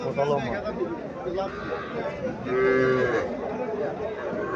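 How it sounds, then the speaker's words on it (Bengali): A young Sahiwal heifer calf moos once in a drawn-out call at a busy cattle market in Cumilla, with people talking nearby and crowd chatter in the background. "এখানে একটা বাছুর দেখা যাইতেছে।"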